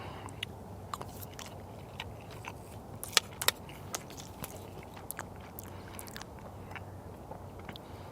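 Someone eats beans in tomato sauce from a humanitarian daily ration using a plastic spoon. Soft, quiet chewing and squishing runs throughout, broken by a few sharp scrapes and clicks of the spoon.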